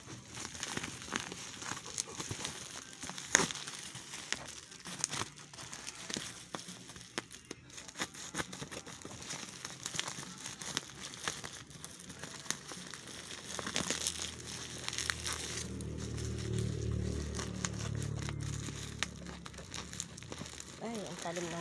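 Plastic packaging crinkles and crackles in bursts while a package is unboxed, with occasional tearing sounds, close to the microphone, and a voice talks now and then over the handling noise.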